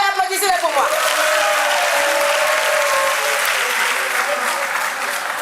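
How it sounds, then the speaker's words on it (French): A television talent show audience applauding loudly and continuously, a thick wash of clapping with some crowd cheering and voices mixed in, staying strong throughout before easing slightly at the end. "Allez, applaudissez-les pour moi."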